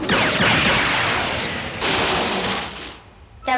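Laser fire from a weapon in the anime Cyber City Oedo 808: a loud, dense burst of crackling energy blasts over about three seconds, briefly easing before a second surge, then a short bright electronic tone at the end.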